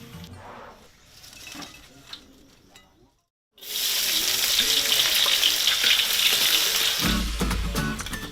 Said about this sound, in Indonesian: adonan nugget pun dilumuri dengan tepung roti untuk selanjutnya dimatangkan dengan cara digoreng